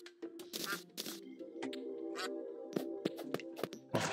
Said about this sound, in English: And we have the ducks here.